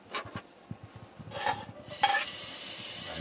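Bacon sizzling in a frying pan in a camper van kitchen, a soft quiet crackle with stirring and a few scrapes and clinks of utensil against pan, close by.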